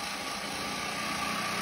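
A bike engine idles steadily as it is put in gear, a continuous high, buzzing drone with no talk over it.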